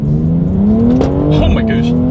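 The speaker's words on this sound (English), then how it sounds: "let's put it in first gear. We'll do it together, acceleration and paddle shifters. And here we go." A 2020 BMW X3 M accelerates hard in first gear with a loud engine note that climbs steadily in pitch. A person exclaims over the roar.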